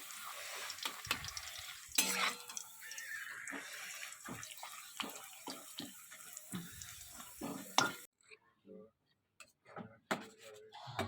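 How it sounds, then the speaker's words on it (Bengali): Papad frying in hot oil, bursts of crackling sizzle and stirring clatter that start and stop, with a near-silent gap toward the end. "পাঁপড়গুলো এখন ভেজে নিই"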